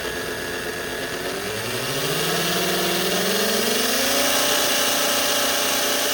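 An AFX G Plus slot car motor fitted with Pro 4/10 magnets spins up, its steady whine climbing in pitch before settling into a high, sustained buzz over constant hiss, close and loud with no talking.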